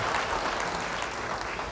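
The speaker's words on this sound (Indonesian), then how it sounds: "Yang mau beri tepuk tangan bagi dia." Brief burst of clapping from a church congregation, dense and steady, fading slightly toward the end.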